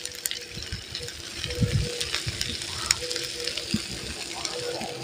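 Red onion sizzling and frying in a hot pan with vegetables, a steady low crackle with a few stirring knocks, heard close and moderately loud.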